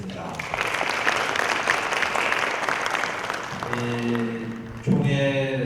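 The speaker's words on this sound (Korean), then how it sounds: "6분 패널들께 큰 박수 부탁드리겠습니다" An academic forum audience gives the panelists a sustained round of applause, dense clapping that fades toward the end as a voice begins speaking over it.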